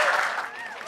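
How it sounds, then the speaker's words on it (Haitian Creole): An audience applauds a comedian at a show in a short, loud burst of clapping that fades slightly, with a voice talking over it. "Veuillez applaudir chaudement."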